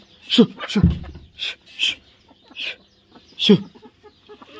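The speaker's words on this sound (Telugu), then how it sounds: "లోపల రాగానే కోళ్ళు ఎగబడతా ఉన్నాయి" Several chickens cluck and squawk close by in short, uneven bursts, with quiet gaps between the calls.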